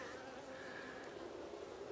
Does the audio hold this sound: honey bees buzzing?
yes